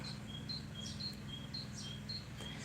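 A small bird sings in a rain-soaked spring garden where tulips are blooming. It repeats a thin, high chirping phrase at a steady, regular rhythm over a constant low hum, fairly faint, with no talking.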